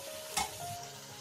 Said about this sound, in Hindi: और इसे अच्छे से फ्राई करूंगी।